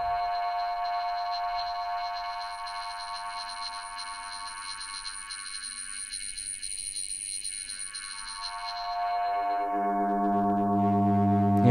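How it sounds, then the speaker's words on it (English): Feedback tones from a 296M envelope follower synth module hold as sustained, layered pitched whines that slowly sweep and shift together, the upper tones fading as a lower buzzing tone rises near the end, with no talking. "And so we're hearing the feedback."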